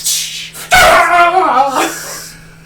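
A startled dog gives a short loud bark that trails into a whining yelp, close and sharp, with faint hiss and voices around it.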